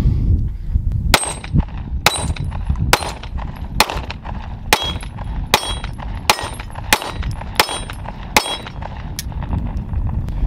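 A series of about a dozen sharp, loud gunshots from an M&P Shield Plus compact pistol, fired one by one at a steady, slightly uneven pace, each crack ringing briefly.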